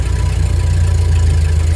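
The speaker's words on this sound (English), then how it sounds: "So now you hear how the engine's actually running pretty high right now." A 1930 Ford Model A engine runs at a steady high idle, with a continuous low rumble and a fast, even pulse from the cylinders. It is close and loud, with no talk over it.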